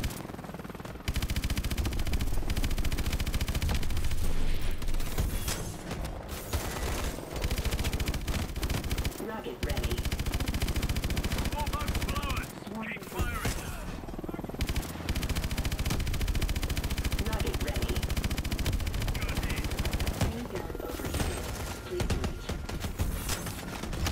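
Automatic gunfire from the Call of Duty: Advanced Warfare video game, a long sustained stream of shots with game music and effects running underneath it and a voice talking over it.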